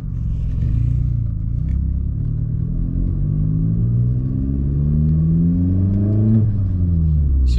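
A Vauxhall Corsa fitted with a throttle controller accelerates in first gear, its engine note climbing steadily in a loud, close, droning rise, then easing off briefly near the end.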